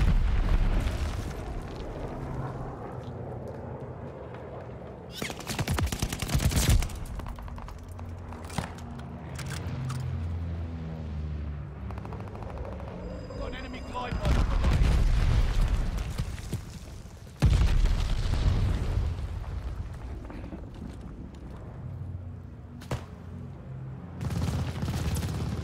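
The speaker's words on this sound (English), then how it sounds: "Friendly bombing run inbound." Bombing run in Call of Duty Vanguard, a long stretch of heavy rolling explosions and deep booms, several big blasts standing out over a constant rumble of gunfire, loud and close.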